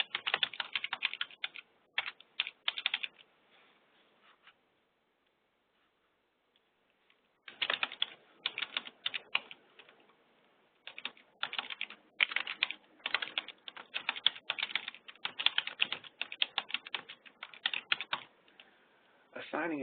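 Fast, close typing on a computer keyboard as a title is entered, dense bursts of key clicks broken by a silent gap of a few seconds, then long uninterrupted runs of keystrokes.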